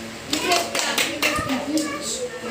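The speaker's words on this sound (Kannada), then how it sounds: "Clap, clap, clap ಮಾಡಿ." Children clap their hands together at a church Vacation Bible School day in Mandya, a run of fairly loud claps mixed with young voices and chatter throughout.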